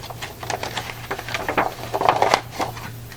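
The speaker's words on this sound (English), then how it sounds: "Now I'm going to open up each of these folds and fold it back." Paper being unfolded and refolded by hand, with a rapid series of close, crisp crinkles and taps over a steady low hum.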